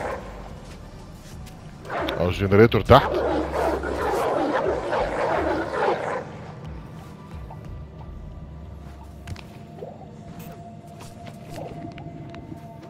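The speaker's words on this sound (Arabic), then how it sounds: "بس تعالوا يا كلاب" Dogs bark in the video game Oddworld: Soulstorm, a loud burst of overlapping barks and yelps for about four seconds amid game noise, then fading to a quieter hum with faint scattered sounds.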